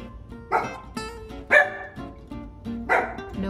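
A dog barks indoors in three loud, close bursts about a second apart, with quieter yips between them and no talking.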